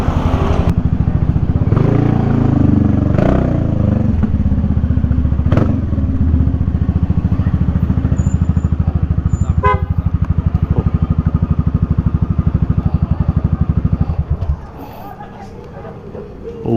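A motorcycle engine runs close by at a steady, loud, rumbling idle for most of the time, then cuts out near the end, leaving much quieter surroundings.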